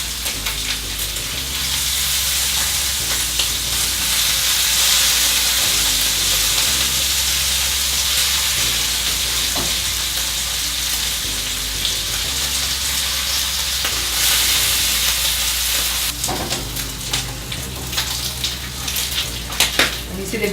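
Bacon slices frying in a pan, a loud continuous crackling sizzle with steady spitting fat and occasional tong and pan clatter toward the end.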